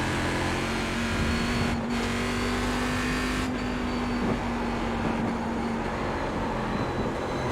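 A race car engine drones continuously at Watkins Glen International in the iRacing simulator during a Fanatec Global Challenge race, a loud, steady roar with a sustained whine that holds for several seconds before easing slightly.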